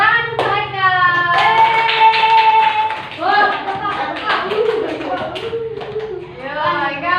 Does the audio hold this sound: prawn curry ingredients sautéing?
no